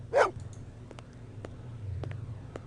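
A dog in the Blade Runner video game gives a single short bark at the start, followed by quiet clicks and a low rumbling ambience.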